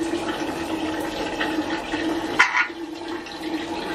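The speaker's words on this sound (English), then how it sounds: "Gypsy, it's just water" Running water from a tap or sink used to bathe a pet bird, a steady close stream with a brief splashy surge partway through.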